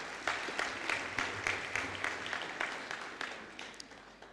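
Audience applause at a university graduation ceremony in May 2023, a moderately distant crowd clapping steadily with a few sharper individual claps standing out, no talking over it.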